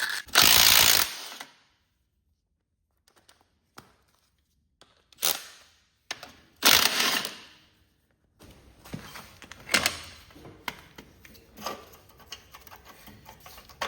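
Wrench or ratchet clicking while removing 7/16 muffler nuts on a Kohler KT17 engine of a Cub Cadet garden tractor, heard as a loud burst, then separate clicks and rattling turns with quiet gaps in between.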